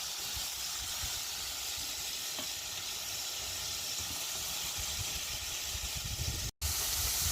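Beef liver frying in hot oil for a Jamaican-style dish, a steady, even hiss of sizzling oil that holds constant and close throughout, with one brief dropout near the end.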